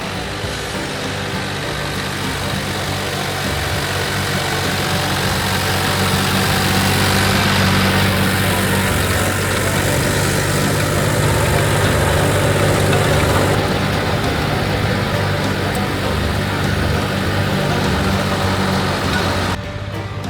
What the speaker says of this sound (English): We're using the tiller, the John Deere Frontier 7-foot tiller, to turn in these food plots